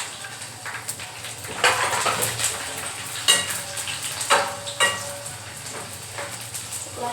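Garlic and grated coconut frying in a pan, a steady close sizzle with occasional scrapes and stirring clinks of a utensil against the pan, no talking.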